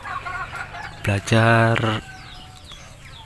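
Free-range village chickens on a small poultry farm cluck and call nearby, while a voice briefly speaks over them.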